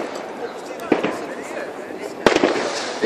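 New Year fireworks at Blackebergs Park in Bromma, Stockholm, pop and crackle at a distance, two sharp bangs standing out over a continuous rumble while people talk nearby.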